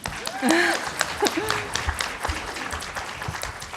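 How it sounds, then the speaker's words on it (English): Audience applause at a Green New Deal presentation during the PIELC 2019 conference, a steady wash of clapping that swells near the start and keeps going, with voices and cheers mixed into it. "So give a big round of applause to Zoe."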